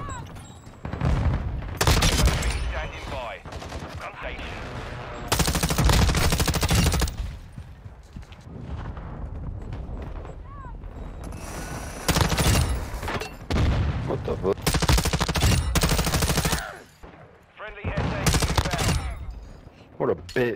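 556 Icarus light machine gun firing in Modern Warfare II, long loud bursts of rapid automatic fire separated by brief lulls with other game noise, close and punchy.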